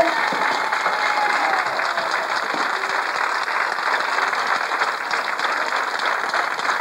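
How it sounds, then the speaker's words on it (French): Audience applause at a cabaret show in Alençon, a dense, even roar of clapping from a crowd that carries on steadily from start to finish. "Vous pouvez nous applaudir même. Et nous nous applaudissons, ok?"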